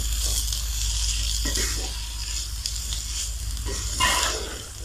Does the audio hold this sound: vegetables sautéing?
yes